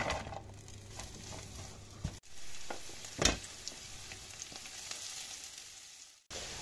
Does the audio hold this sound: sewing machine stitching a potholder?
no